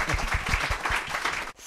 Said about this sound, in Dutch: Geef al even applaus voor de mensen voor de pauze